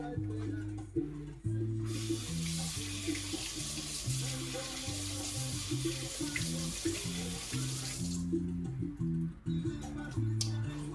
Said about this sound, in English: you're going to rinse this off underneath the cold water